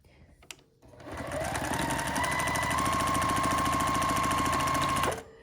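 A sewing machine stitches quilt pieces together in one steady run of about four seconds, a loud close mechanical whir with a fast even needle rhythm that starts up after a brief click and stops abruptly.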